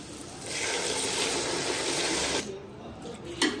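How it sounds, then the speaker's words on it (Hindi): Water pours steadily into a cooking pot of fried white chickpeas and rice for chana pulao, a close, continuous splashing rush lasting a couple of seconds before cutting off, followed by a brief clink. "अब हम इसमें पानी ऐड करेंगे"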